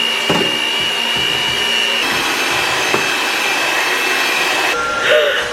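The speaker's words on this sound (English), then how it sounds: "mixer with a whisk." An electric hand mixer fitted with a whisk runs steadily, whipping cream for homemade butter; its motor whine holds constant with a brief shift near the end, alone without talk.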